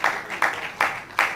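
Conference audience clapping in unison: four loud, evenly spaced group claps land about every 0.4 seconds in a steady rhythm.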